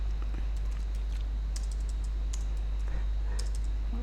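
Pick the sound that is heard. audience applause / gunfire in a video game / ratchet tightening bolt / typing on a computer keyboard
typing on a computer keyboard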